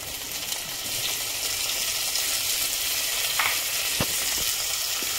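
Chopped tomatoes go into onions frying in a pan while cooking a village-style chickpea curry. A steady, close sizzle continues throughout, with a few faint clicks of stirring and no talking.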